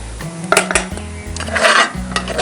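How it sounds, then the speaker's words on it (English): Clattering scrapes and knocks of a utensil scooping a flour mixture out of a Dutch oven while making breakfast, several sharp metallic contacts over a low steady hum, close and moderately loud. "we'll go ahead and take this mixture out of the Dutch oven"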